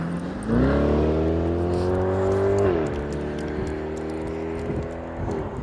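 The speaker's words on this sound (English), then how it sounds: "There's a car coming." A car approaches and passes on a road outdoors, its steady engine hum rising and then shifting in pitch as it goes by, fairly close and continuous.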